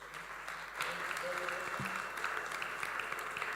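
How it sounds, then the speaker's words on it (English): A conference audience claps in a steady, moderate patter that swells slightly after the first second, with voices faintly underneath. "I think we can make the clap a bit better than that"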